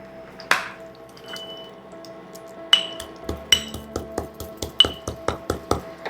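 Green cardamom pods, four of them, crushed on a kitchen towel: a sharp knock, then after a pause a run of quick, evenly spaced crisp taps and cracks, close and fairly quiet.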